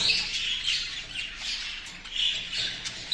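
Pet birds squawk continuously at close range, a dense bright run of harsh calls with no talking.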